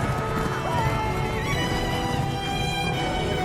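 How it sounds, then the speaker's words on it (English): Knights' horses thunder at a gallop, a dense, continuous drumming of hooves with neighing mixed in, loud and full throughout as a sound effect. "After him thundered the knights of his house"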